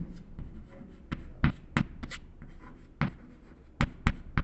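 A pen or chalk writing on a board gives soft scratching strokes with sharp taps scattered between them, close and irregular over a faint background hum.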